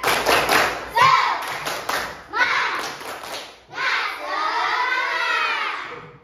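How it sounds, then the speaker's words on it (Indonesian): A classroom of children does a rhythmic spirit clap in bursts of sharp clapping, then shouts together loudly in unison, with the energy rising toward the end. "Coba Ibu cek semangatnya semua. Tepuk semangat."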